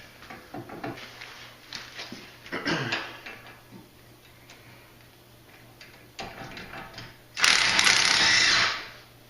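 Breaker bar cracking loose a front brake caliper bracket bolt on a BMW E46 330xi, with scattered clicks and metallic clunks, a brief strain around the middle and a loud, near burst of grinding, ratcheting noise toward the end.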